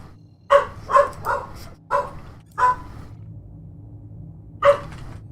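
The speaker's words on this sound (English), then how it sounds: "If you hear a dog barking in the distance" A dog barks in short bursts, four quick barks followed by a pause and then two more, fairly clear against a quiet, humming room.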